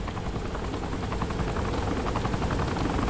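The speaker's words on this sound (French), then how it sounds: "Putain, un hélico." A helicopter in the video game Saints Row 3, a loud continuous rotor chop with steady rhythmic thumping that holds close and constant for about three seconds, with no talk over it.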